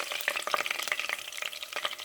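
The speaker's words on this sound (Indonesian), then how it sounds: "Ini kita masak dulu sekitar 1-2 menit" Lemongrass, bay leaves, lime leaves and crushed galangal frying in a pan, with crackling sizzle and quick stirring clicks close by, busy and uninterrupted.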